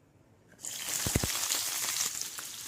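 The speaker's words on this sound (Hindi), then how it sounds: "हाई फ्लेम पे हम इसे अच्छे से भून लेते हैं।" Chopped onion and capsicum hit hot ghee on a high flame with a sudden loud sizzle that holds steady and crackling, close up, with no talk.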